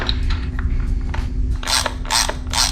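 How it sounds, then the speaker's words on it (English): A torque wrench ratchets in short close bursts while a screw on Harley forward controls is tightened, the clicks coming in about four loud pulses in the second half, with no talking. "you're gonna tighten that down to 96 to 156 inch-pounds"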